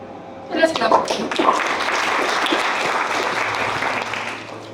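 Audience at a Bitcoin unconference clapping steadily, a dense applause wash swelling near the start and holding for several seconds, with a few voices mixed in.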